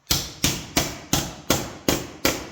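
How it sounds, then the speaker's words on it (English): A metal tab on a Harley rear fender is being hammered down in a custom bike build, with seven sharp, evenly spaced metallic blows ringing out close and loud with no talk. "I'm going to whack that tab down a bit"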